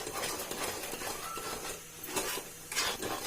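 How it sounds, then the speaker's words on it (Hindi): A ginger barfi mixture of ginger and sugar is stirred steadily in a pan, with faint scraping and soft sizzling, quiet and close with a few brighter scrapes of the spoon against the pan. "और अब इसको अच्छी तरह से मिक्स कर लेंगे। इसको कंटिन्यू चलाते रहेंगे इसी तरह से।"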